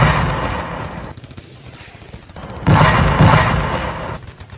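Gunfire and artillery effects in a war radio drama, depicting a sudden two-sided attack with machine guns and artillery on soldiers; loud, dense bursts and rumbling booms that surge twice, with no speech.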